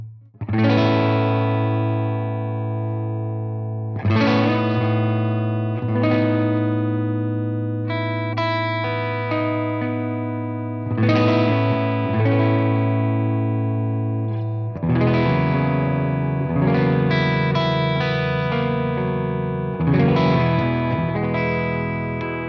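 A Victory Sheriff 44 guitar amp set clean with a touch of breakup carries electric guitar chords, each strummed and left to ring and decay over a few seconds in an unhurried pattern, close and fairly loud with a faint grit, no talking.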